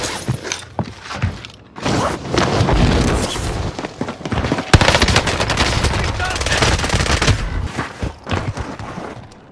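Rapid machine-gun bursts and scattered gunshots in the battle royale shooter Warzone, loud and close, coming in clustered volleys with a few booms and brief quieter gaps between them.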